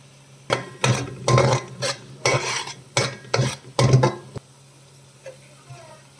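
Tomato paste, turmeric and oil are stirred in a pan with a utensil, giving a series of close scraping and clinking strokes in uneven bursts, with a faint sizzle and no talk.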